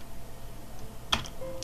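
A few faint keyboard clicks, a brief cluster of keystrokes near the end over a quiet room hum.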